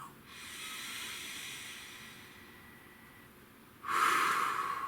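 Deep breathing: a long, steady, airy inhale drawn in over several seconds, then a sudden louder rushing exhale near the end, close to the microphone with no talking.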